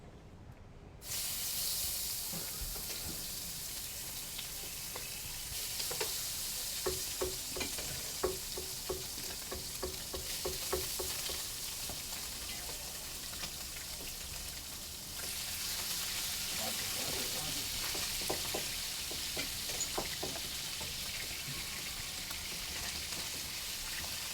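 Wet food, some with a little water on it, frying in hot oil in a cooking-club kitchen, a steady loud sizzle with scattered crackles and pops throughout, stirring sounds mixed in and no speech.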